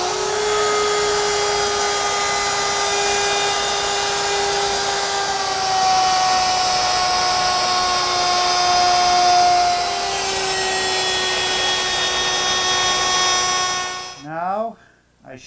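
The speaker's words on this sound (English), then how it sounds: "The pivot hole is for the pin in my circle cutter for the router. It'll allow me to cut a perfect circle." Router fitted with a circle cutter trimming plywood, a loud steady high whine with a sustained cutting roar for about 14 seconds, then the motor abruptly stops and winds down.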